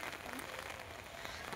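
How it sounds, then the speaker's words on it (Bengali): Steady rain falls outdoors during a flood, a continuous broadband patter on surfaces with no break, fairly faint and even throughout. "বৃষ্টি হচ্ছে আর তোমরা দেখতেই পাচ্ছ অনেকটা বৃষ্টিও হয়ে গেছে"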